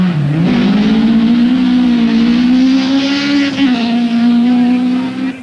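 A 1984 rally car at the Thousand Lakes Rally in Finland roars loud and close, its engine holding a steady high-revving drone with brief dips as it shifts, sustained throughout.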